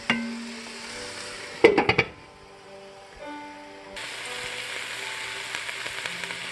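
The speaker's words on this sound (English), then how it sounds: "Put the lid on and let it simmer" Onions simmering under a lid in a pan give a soft steady sizzle. A short cluster of metallic clatters comes from the lid and pan, then the bubbling rises a little and runs on.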